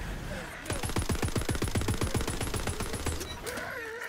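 A rapid-fire gun in Tiny Tina's Wonderlands spits out little orbs in a fast, even stream of about thirty loud, sharp shots lasting a few seconds, followed by a brief electronic shimmer and faint voices.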